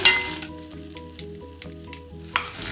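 Finely ground grated coconut frying in a pan for a Malabar banana snack, a steady close sizzle with a few soft stirring scrapes, no voices.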